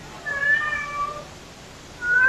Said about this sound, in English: Sorry about my cat.